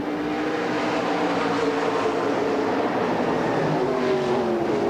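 Pack of race cars at the 1998 Tucson Winter Heat race accelerating together off the green flag start, a loud, dense, continuous engine roar close by with no talk.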